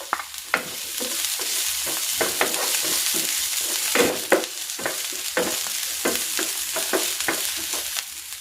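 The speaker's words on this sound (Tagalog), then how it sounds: "Magigisa na ako ng bawang. At ng sibuyas." Garlic and onion sauté in a hot pan, a constant bright sizzle broken by repeated rhythmic spatula strokes and scrapes, close and loud.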